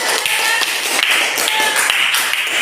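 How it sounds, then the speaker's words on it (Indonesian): A classroom of students gives a round of applause at a teacher's prompt, dense, close, rhythmic clapping that continues steadily for the whole stretch. "Beri aplaus kita"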